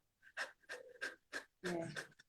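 A man imitates heavy, fearful panting with his voice, giving a series of quick, loud, breathy gasps in irregular bursts, close to the listener.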